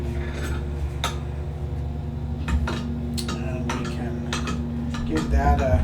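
A spoon stirs a mixture of melted butter, salt and yeast in a bowl, tapping and scraping in scattered clinks over a steady low hum.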